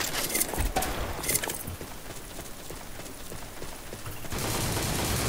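Rapid bursts of gunfire from a competitive shooter video game, close and loud, with sharp volleys early on, then a steadier noisy background of game sound and no clear talk.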